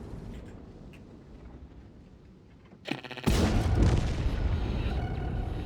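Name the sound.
tank cannon firing through cover in World of Tanks video game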